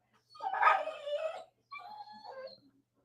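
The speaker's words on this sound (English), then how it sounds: "You hear this dog? This dog is so vocal." A dog whimpers and howls in two drawn-out, wavering cries separated by a short pause, close and fairly loud with no talk over them.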